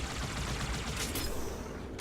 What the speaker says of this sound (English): just shoot them all with an automatic weapon, they die.